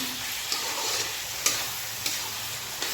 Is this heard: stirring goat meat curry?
yes